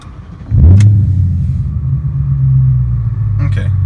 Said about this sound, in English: so it seems to be idling just fine now